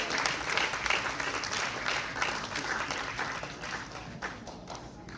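A ceremony audience gives sustained applause at a 14 July event. The dense clapping is moderately distant and fades gradually, with some faint voices mixed in.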